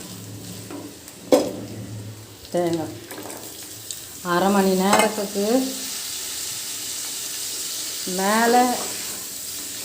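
Chicken pieces fry slowly in oil in a home kitchen, giving a steady low sizzle while someone talks over it in short phrases.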